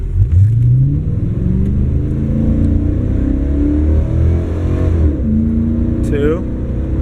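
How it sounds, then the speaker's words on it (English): A car engine, already warmed up, revs hard for a burnout with rising and falling pitch sweeps and a shift near the end, loud and close, while a person talks over it. "Car's kind of warmed up. We get some burnout marks."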